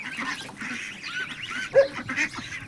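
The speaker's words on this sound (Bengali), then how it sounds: "এখন দেখেন এই মাঝরাতে আমাদের দেশের মতো হাঁস, রাজহাঁস, চীনা হাঁস," Domestic ducks, geese and Chinese geese on a farm at midnight give repeated honks and quacks, several overlapping calls with a few louder nearby honks rising over a busy flock.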